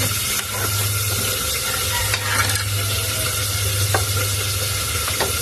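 Sautéed sardines with chayote sizzle loudly in a pan as they are stirred, with a constant dense frying hiss and a few scraping strokes of the utensil close by.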